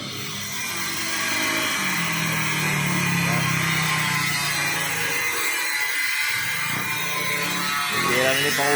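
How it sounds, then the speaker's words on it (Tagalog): An angle grinder cuts corrugated iron roofing sheets for a roof, a steady, loud high-pitched whine with shifting grinding texture that runs continuously throughout. "Yung grinder na. Para mahati na yung mga yerong ilalagay sa bubungan."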